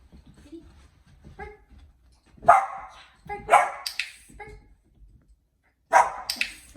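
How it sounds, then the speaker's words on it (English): A Comfort Retriever barks on command in a few sharp, loud, close barks spaced across a couple of seconds, with quieter sounds and low background noise between them. "That is her bark on command."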